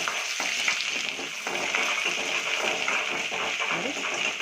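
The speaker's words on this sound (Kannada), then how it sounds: "ಈರುಳ್ಳಿ ಇದೆಲ್ಲ ಫ್ರೈ ಮಾಡ್ಕೊಳ್ಳೋಣ." Onions fry with cinnamon and cloves in a pan for veg biryani, giving a dense, steady sizzle that stays close and loud throughout, with a little stirring mixed in.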